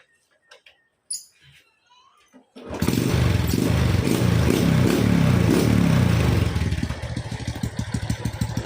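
A Honda Wave 125R motorcycle with a hidden exhaust pipe starts up and settles into a steady, smooth idle close by. A few faint sounds come just before, then the engine hums continuously, easing slightly toward the end.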